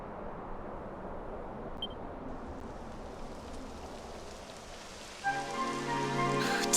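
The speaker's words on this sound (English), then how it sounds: "It would have to go and start raining, wouldn't it?" Rain in Dragon Quest XI falls as a soft, steady hiss of drops, faint and continuous, and a musical tone enters near the end.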